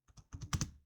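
A short burst of keystrokes on a computer keyboard while typing text into an Excel spreadsheet: about half a dozen quick, close taps, the later ones louder, with no talking.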